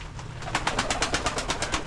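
Pigeons cooing on a rainy day, a steady run of soft, rhythmic coos over a low background rumble, close and continuous without talk.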